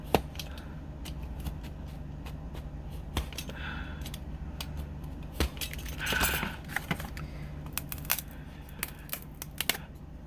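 Scissors snipping through craft material for a Dollar Tree vintage farmhouse red truck project, a few short close snips and clicks with a brief scrape around the middle, over a steady low room hum.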